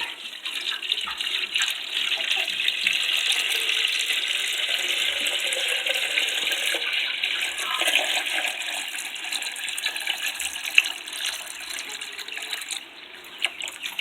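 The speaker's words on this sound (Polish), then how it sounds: "Mam już tu przygotowaną wodę, więc teraz nalejemy sobie" Water poured into a chicken drinker, a steady splashing, gurgling stream that runs close and fairly loud for the whole stretch without any voices.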